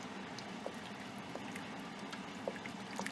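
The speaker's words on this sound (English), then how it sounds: "I'm just going to add one last glass of water" A glass of water poured into a simmering pot of veal stew, a faint liquid splash and patter over gentle bubbling.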